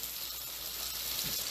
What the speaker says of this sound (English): We're going to actually back that heat and that cast iron down a little bit. And we're going to start working on that sear.